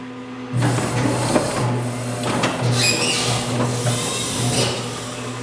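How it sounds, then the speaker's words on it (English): Motion mechanism of an After Burner Deluxe arcade cabinet moving after a power cycle, a continuous mechanical grinding and rubbing hum with steady motor tones and a few clunks, close and fairly loud. "If I uh, power cycle the game, then we'll be able to see this mechanism move"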